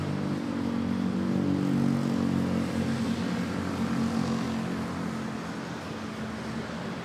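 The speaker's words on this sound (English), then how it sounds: "we're gonna have our first Dreamliner take off shortly" A Boeing Dreamliner taking off at Manila Airport gives a steady, loud engine roar with a deep low drone, holding for several seconds and easing slightly toward the end, with no voices.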